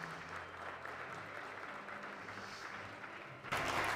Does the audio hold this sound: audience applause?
yes